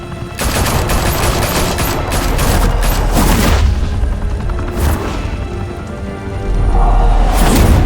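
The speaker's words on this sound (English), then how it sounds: "Open fire!" Sustained automatic gunfire in the Batman: The Telltale Series video game, a dense loud fusillade of rapid shots and booming impacts running nearly continuously, swelling again near the end with no talking.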